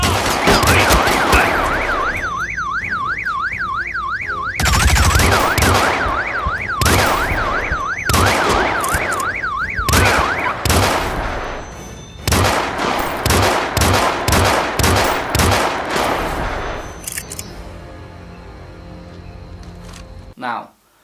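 Gunfire in the Hitman (2016) beta video game: bursts of rapid shots and single cracks come in clusters alongside a wavering alarm-like tone, loud and dense throughout.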